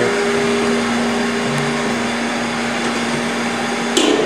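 Pumps running in a brewery during beer brewing, a loud steady mechanical drone with a constant hum that stays even throughout, with a brief clank near the end and no talking.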